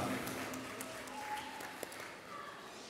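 Audience applause at the Sir Syed Day 2023 ceremony held by AMUOBA in Jeddah, a steady wash of clapping from a crowd heard fairly faintly and at a distance throughout.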